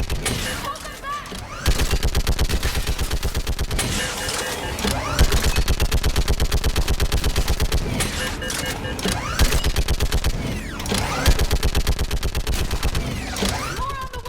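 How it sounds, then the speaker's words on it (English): Sustained automatic fire from a mounted gun in the game Mass Effect 3 during the battle on Thessia, rapid and relentless bursts with brief gaps, loud and close, with muffled voices underneath. "Get on that gun and do some damage."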